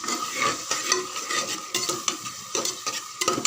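Biryani masala with yogurt and mint being sautéed and stirred in a pan, with a continuous sizzle and frequent scraping strokes of a spoon against the metal, close and fairly loud.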